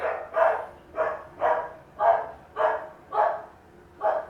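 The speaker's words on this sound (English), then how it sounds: "do you hear my dog?" A dog barks indoors in a steady series of about eight evenly spaced woofs, moderately loud and somewhat distant, with no talk over it.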